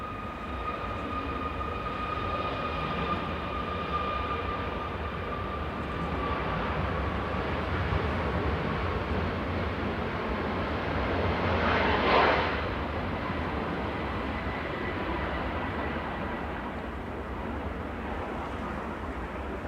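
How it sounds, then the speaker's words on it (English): A Ryanair Boeing 737 MAX 8200 airliner departs Manchester Airport, its steady engine roar filling the air throughout and swelling briefly near the middle before easing off, heard alone. "This is Ryanair heading off to Paphos."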